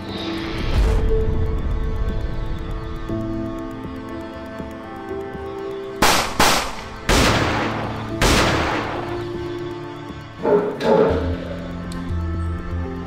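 Gunfire from an active shooter: several sharp, loud shots in separate bursts over a steady low background, with gaps between volleys.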